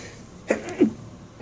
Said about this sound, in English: oh, there, sneeze right on camera